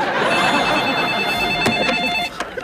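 A telephone rings in a family sitcom scene, its electronic tone repeating steadily for about two seconds and stopping abruptly, close and clear with no talk over it.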